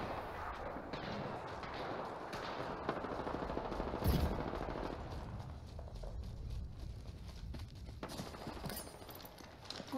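Dense, continuous gunfire in the shooter game Apex Legends, with rapid overlapping bursts and a heavier impact near the middle, loud and sustained throughout.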